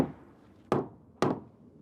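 Two sharp, solid knocks land about half a second apart on a Hebel Power Floor aerated concrete flooring panel, each a dull, close thud with a short decay and no voices.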